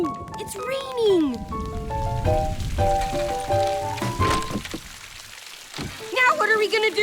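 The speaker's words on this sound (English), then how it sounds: "Oh no, it's raining." Cartoon rain pours down steadily on surfaces, mixed with whimsical musical tones and effects, with a child-like voice talking briefly over it near the start.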